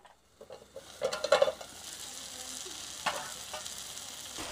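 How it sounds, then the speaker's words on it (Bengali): Jute leaves with prawns sautéing in a pan give a soft, steady sizzle, with a few light clatters of a utensil stirring near the start. "পাট শাকটা চিংড়ির সাথে ভালোভাবে কষে এসেছে।"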